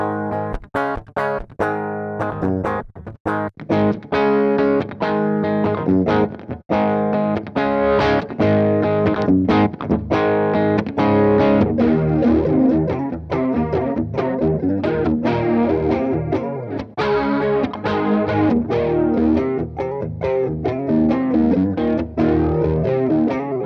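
An electric guitar plays through a Pedals Picasso chorus pedal modelled on the Boss CE-1. A continuous run of picked notes and chords shimmers with a warbling chorus, played steadily and fairly loud with no talking.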